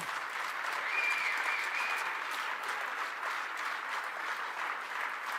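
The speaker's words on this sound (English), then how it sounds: "a big applause to all of you" An audience at the Save Texas political event gives a long round of applause, a steady, even roar of many clapping hands heard from some distance and without break.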